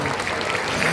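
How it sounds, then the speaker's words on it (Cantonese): A dense burst of audience clapping at the Yuen Long arts festival opening show in Hong Kong, loud and continuous for under a second, with crowd noise mixed in. "大家可以俾多次熱烈嘅掌聲好嘛？"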